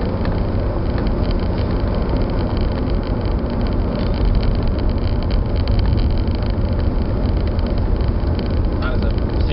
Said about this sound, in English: It's missing, I think it's only running about 5 cylinders there at the moment.